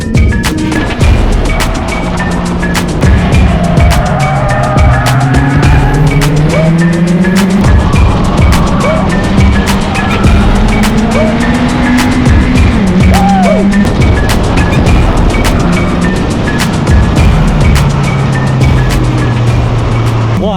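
A Caterham 310R race car with different cams and an upgraded ECU works around a track, its engine loud and continuous, pitch rising and falling in repeated sweeps through gear changes.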